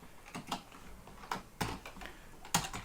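Someone types code on a computer keyboard in quick, irregular bursts of clear, close key clicks, with short pauses between them and no talking.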